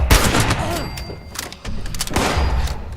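Gunfire in the video game Fallout 76: a few sharp shots and booming thuds in quick succession, loud and close, with no talk.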